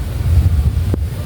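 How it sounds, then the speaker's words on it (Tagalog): Wind buffeting an outdoor microphone in a short, steady low rumble, with a brief thump near the end. "Mahangin-hangin pa rin po."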